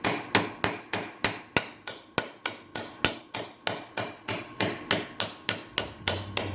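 Close, loud hammer blows strike a 3/16 inch truss head rivet 3/8 inch long in a rivet tool, about twenty sharp metallic hits at a steady, slightly quickening rhythm with no talk.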